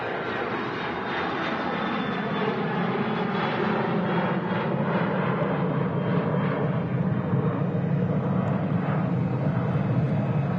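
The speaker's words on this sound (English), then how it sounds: "KLM 737-800 just touched down" A KLM Boeing 737-800 airliner touches down at Manchester Airport, a loud, sustained roar of engines and rushing air that stays steady and broad for about ten seconds with no voices.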